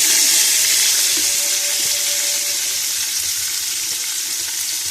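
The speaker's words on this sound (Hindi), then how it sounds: "अब इसके अंदर हमने ऐड करना है बंद गोभी," Shredded cabbage goes into hot oil with garlic and is stir-fried, giving a loud, bright continuous sizzle that eases slightly over a few seconds, with faint scraping of a spatula.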